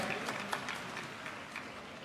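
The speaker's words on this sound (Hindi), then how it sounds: "इनके लिए भी एक बार जोरदार ताली बजा दीजिए।" A crowd claps at a political event in Lucknow, a soft, fairly distant patter of many hands that holds steady for about two seconds.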